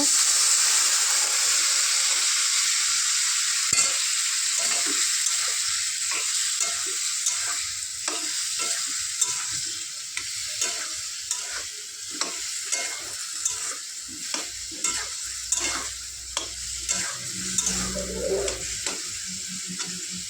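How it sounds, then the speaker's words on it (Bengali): Curry sautés in a pan with a little water added. A loud, constant sizzling hiss runs throughout, with regular scraping stir strokes of the spoon close by and no voices. "দেখো একটু জল দিয়ে দিয়ে কষাবো"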